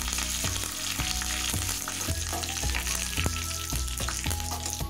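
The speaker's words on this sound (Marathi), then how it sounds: "कढीपत्ता घालूया." Curry leaves crackle and sizzle in hot oil with dried red chillies and cumin for a chole tadka, a dense continuous frying hiss up close with repeated sharp spatters and no talking.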